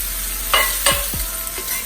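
Breakfast potatoes fry in a pan with a steady hiss, and a few distinct scraping sweeps sound as they are stirred around.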